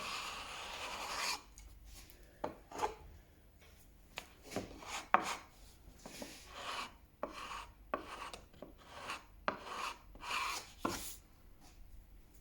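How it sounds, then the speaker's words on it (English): An old chisel scraping glue out of a woodworking joint on a shooting board, a series of short, dry, rasping scrapes at an irregular pace, close and fairly quiet. "Old chisel for scraping glue out."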